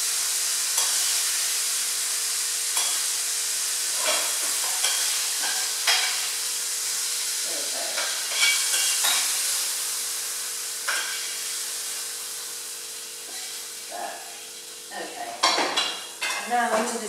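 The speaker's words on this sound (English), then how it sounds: "And I'm just going to add my bacon casserole." A spoon scrapes and stirs a sausage and bacon casserole in a pan, giving soft scattered clinks and a faint sizzle, close and unhurried with no talk.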